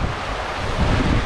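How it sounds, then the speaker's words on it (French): Wind and waves at sea on a sailing crossing from the Seychelles toward Zanzibar, a loud, dense rush of gusting wind buffeting the microphone over the wash of surf, steady and unbroken. "On a du vent, ce qui est magnifique, on a des belles, belles vagues, vous voyez derrière."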